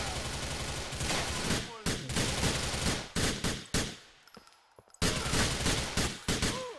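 Rapid automatic gunfire in a heist video game, bursts of loud, dense shots close by with brief gaps, and a quiet stretch near the end before firing resumes.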